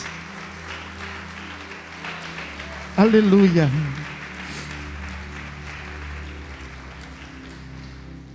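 A church congregation applauds softly in the background during a sermon, a low steady patter of clapping. A voice briefly shouts over it partway through before the clapping carries on quietly alone.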